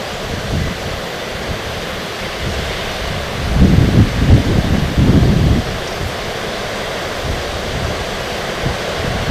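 Water of a river in western Uganda rushing steadily as a broad, noisy wash, swelling louder for a couple of seconds midway before settling back; no voices.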